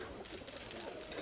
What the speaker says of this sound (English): While Mr. President is releasing the pigeons,